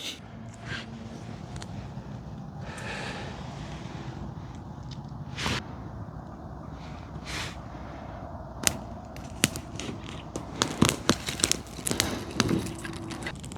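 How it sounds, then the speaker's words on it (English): Pine needles burn in an outdoor campfire, lit from a duct-tape-wrapped cotton pad, with sharp scattered crackles and pops that grow denser and louder toward the end over a low steady background. "these pine needles, they burn really good"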